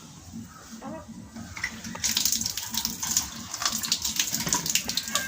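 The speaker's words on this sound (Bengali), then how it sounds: "এখন পানি দিব পাখিটি।" Water is poured out for a pet bird in a village setting, a swelling splashing gush that starts soft and grows louder and more turbulent.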